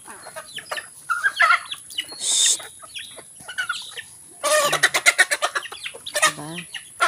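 A flock of chickens clucking and squawking excitedly while being fed in the morning, loud and close, with busy overlapping calls and a few sharp bursts of squabbling.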